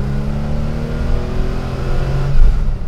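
An air-cooled Porsche 911's rear-mounted engine revs hard, a loud, close, steady mechanical drone rising and swelling through the whole stretch with no talk over it.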